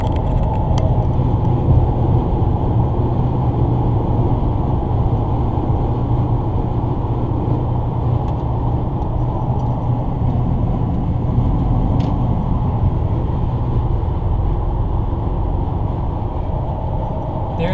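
A 2004 Range Rover cruising at 80 in fifth gear, with a steady, dense low road and engine drone and wind roar that holds constant and loud throughout.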